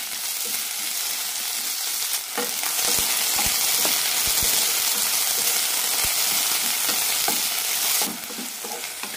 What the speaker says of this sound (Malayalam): ഇതിലേക്ക് കോവയ്ക്ക ഇടാം. നാലഞ്ച് മിനിറ്റ് നന്നായി വഴറ്റിയെടുക്കാം.